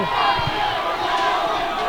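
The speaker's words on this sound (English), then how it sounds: "The crowd making some noise, trying to defend that lead as well." Crowd at a school hockey game between St. Paul's and Deerfield, a steady loud roar of voices and shouting in an arena during the final seconds of play.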